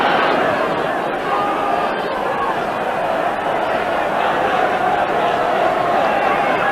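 Steady roar and babble of a football crowd in a cold stadium at Sunderland versus Spurs after a goal, a dense continuous wash of many voices at even loudness throughout.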